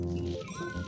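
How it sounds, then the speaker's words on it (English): A pet cat meows to be let out, one drawn-out rising meow close by with no talking over it. "my cat wants to get out"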